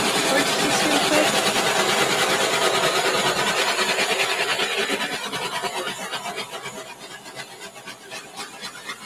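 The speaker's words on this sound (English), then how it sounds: "Okay, I'm going to torch this." A torch roars steadily close by as it plays over the surface of an acrylic pour painting coated with iridescent top coat, a broad hiss that eases and flutters lower toward the end.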